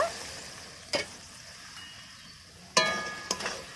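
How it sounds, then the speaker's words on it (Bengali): Cucumber sautéing in a pan, a soft, steady sizzle with a few sharp metallic clinks of a utensil striking the pan near one second and again near three seconds, close and without talk. "এবার ঢাকা দিয়ে শশাটাকে একটু কষিয়ে নেবো"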